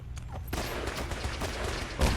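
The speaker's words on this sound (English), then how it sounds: "More gunfighting going on up there, right? You can see the laser flashes and everything else." Distant laser gunfight in Fallout 4 in the Glowing Sea, a faint rattling patter of rapid shots and small bursts carrying from afar, with a sharper thud near the end.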